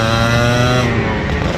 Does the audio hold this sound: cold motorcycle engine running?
yes